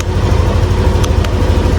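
A Yamaha NMAX 155 scooter engine runs at a steady idle, a loud, close, continuous low rumble that barely changes level. A couple of faint clicks sit on top of it.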